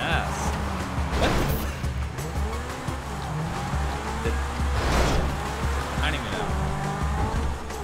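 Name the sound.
car drifting with tire squeal in video game GTA V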